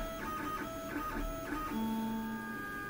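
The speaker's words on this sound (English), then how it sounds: "and then it wipes the head against the cleaning pad." A LulzBot TAZ 6 3D printer hums steadily as its print head wipes back and forth across a cleaning pad, with soft repeated stepper-motor whirs and a brief rising tone near the end.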